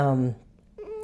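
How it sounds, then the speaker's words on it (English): A pet cat gives one short, fairly close meow, followed by quiet and then a faint voice. "Stella, sorry about my cat."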